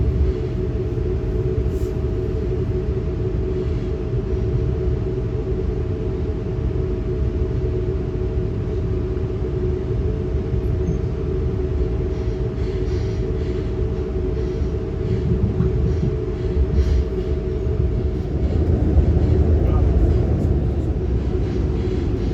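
Interior of a moving passenger train in Sicily, a continuous low rumble with a steady hum, wheels clicking faintly over the track, growing slightly louder near the end, no talking.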